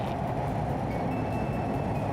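An ITX-Maum passenger train runs at near top speed into the Geumjeong Tunnel outside Busan, a dense, continuous roar and rumble with a faint thin whine on top, heard from inside the cabin.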